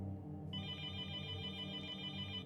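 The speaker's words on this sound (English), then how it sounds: "We're getting a phone call." A telephone rings in a point-and-click horror video game, a steady electronic tone over a low droning background.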